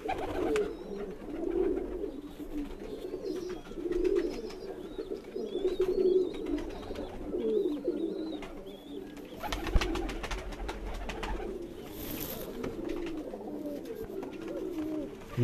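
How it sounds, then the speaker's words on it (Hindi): Golden pigeons cooing on a rooftop loft, soft repeated coos close by over faint background noise, with a short burst of rustling partway through. "ये गोल्डन कबूतर का शौक करें जी, ये भी मेरा बड़ा शौक वाला कबूतर है"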